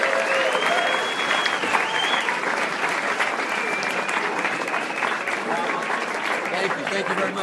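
Sustained audience applause fills a comedy club in Dallas after an improvised headline stand-up set by comedian Ben Gleib, a dense steady clatter of many hands with faint voices mixed in throughout.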